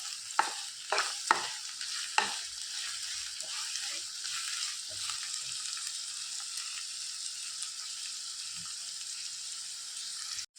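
Onion and garlic fry in a pan for a Mangalore-style mutton gravy, giving a steady broadband sizzle throughout with several sharp stirring clicks near the start.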